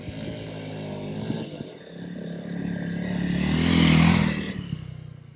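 A Honda CRF300L dual-sport motorcycle ridden along a dirt trail, its engine a steady close drone that swells and rises in pitch toward the middle before easing off, with some clatter of the bike over rough ground.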